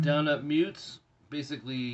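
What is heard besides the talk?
No everyday noise stands out behind the speech.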